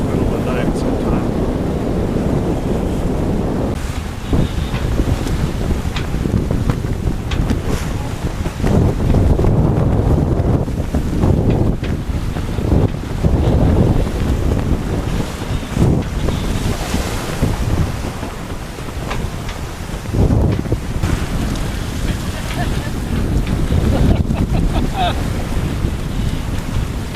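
Wind roars and waves wash steadily against the hull of an Oyster 485 sailboat under sail on the open Ionian Sea, a loud continuous rush with gusty swells and no talk.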